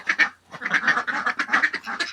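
Two ducks, one with an injured wing, quacking repeatedly in short bursts close by as they join a flock at a backyard farm, loud and lively with no talk.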